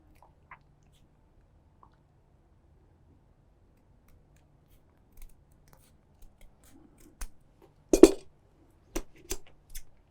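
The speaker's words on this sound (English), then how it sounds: "अब इसको हम कैंची से काट काट कर लगाएंगे।" Scissors snip a few times near the end while cutting puppet-making material, sharp crisp cuts in a short irregular cluster after mostly quiet.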